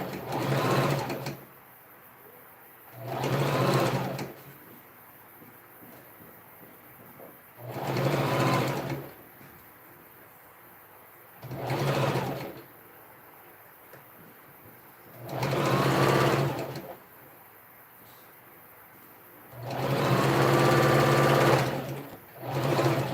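Sewing machine stitching a princess dart dress, running in five separate bursts of steady whirring stitches with short quiet pauses between them, close and clear with no talk.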